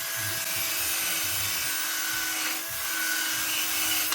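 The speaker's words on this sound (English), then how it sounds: "I might need a bit of emery tape just around the crank there so it is nice and clean" Emery tape rubs light rust off the crankshaft of a Land Rover Discovery 300Tdi engine in short back-and-forth strokes, a close, scratchy rasp repeating steadily with no talking.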